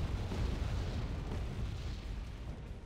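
Bombs in the strategy game Wargame: AirLand Battle give a continuous low, rumbling roar of blasts that holds steady and fades slightly toward the end, moderately distant and with no voices.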